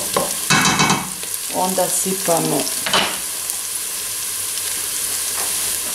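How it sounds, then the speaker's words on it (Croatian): Onion and carrot sautéing in a pan, a loud continuous sizzle with bursts of stirring and scraping; a brief spoken word breaks in near the start. "Znači prvo eto dinstamo luk i šangarepu."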